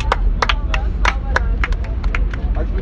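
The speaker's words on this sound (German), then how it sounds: "Ich würde sagen, Applaus dafür." Scattered hand claps from a few people at Gamescom 2018, sharp irregular slaps close by over a low background hum, with no talk over them.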